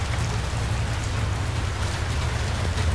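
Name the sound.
rain falling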